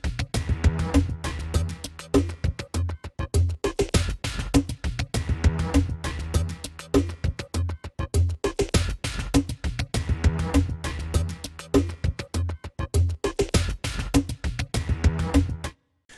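A looping, rhythmic musical phrase from the Cinematic Guitars Infinity sample library, with choppy, pulsing guitar-like hits repeating steadily and fairly loud, no voices.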